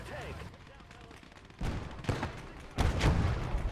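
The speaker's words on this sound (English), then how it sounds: "Oh, that's a big gun." Heavy gunfire from a big gun in the World War II shooter Call to Arms Ostfront, with three loud, booming blasts that rise in force over a low rumble of battle noise.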